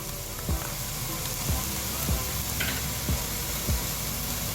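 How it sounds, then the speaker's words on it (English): Minced garlic and carrots fry in a pan for lasagna, giving a steady, dense sizzle with soft thuds recurring roughly every half second, close by with no talking. "I'm going to add minced garlic, carrots,"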